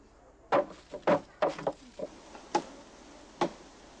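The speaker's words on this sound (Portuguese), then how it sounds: "Precisa cavar com formão de pedra para ajustar a lâmina a um bom ângulo para a batida." A stone chisel carving a wooden axe handle, sharp knocks and scraping chips at an uneven pace, up close and alone.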